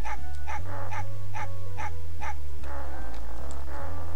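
A dog in Mega Man Legends 2 barks in a quick, regular series of sharp yaps, about seven evenly spaced barks, loud and up front over a droning low game backdrop.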